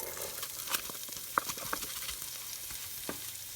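Chopped onion sizzles steadily in a pan, a close, continuous crackle with a few sharp clinks and pops from a utensil scattered through it, and no voices.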